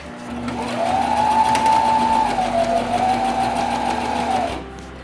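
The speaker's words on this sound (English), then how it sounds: "Quarter inch seam allowance means I'm sewing 1/4 inch from the edge of the fabric" A sewing machine stitches a seam on a fitted fabric face mask, its motor humming in a steady, close, even whir for about four seconds before it slows and stops.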